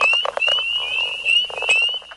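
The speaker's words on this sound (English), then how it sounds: "The sounds of frogs and toads." Frogs and toads call in a loud chorus of rapid croaks and trills, with a high whistling note repeating over the top.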